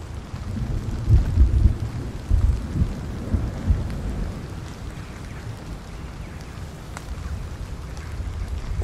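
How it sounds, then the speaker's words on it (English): A thunderstorm rolls through in the video game Road to Vostok: deep, rumbling thunder swells in the first few seconds over a constant wash of heavy rain, then fades back to a steady downpour, with no talking. "The thunder sounds so real."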